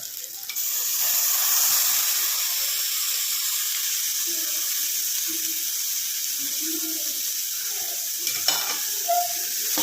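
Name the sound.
stirring mixed sundal with curry leaves, coriander and coconut in pan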